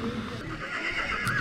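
A Boulonnais draft horse whinnies amid the steady crowd bustle of an outdoor foal show and sale at Hucqueliers, with hoof clatter and murmuring voices mixed in throughout.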